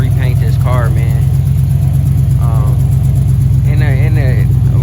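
A Chevrolet Impala's engine idling after a pinion angle adjustment, a loud, steady low rumble throughout, with someone talking intermittently over it.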